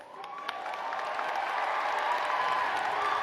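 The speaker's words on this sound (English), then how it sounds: "Let's stand and give them a rousing applause" Audience at a commencement ceremony breaks into applause, a steady swelling wash of many hands clapping with scattered cheers, moderately distant and building in loudness.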